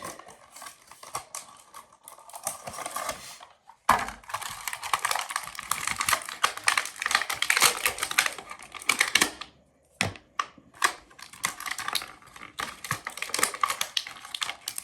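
Action figure packaging being opened, with tape pulled and peeled away in long, close, crackling rips broken by a few short pauses.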